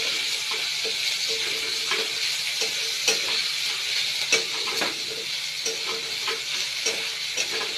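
Chopped onion and green chilli fry in hot oil after tempering spices, a steady sizzle with soft stirring scrapes recurring every second or so, close and moderate in level, with no voices.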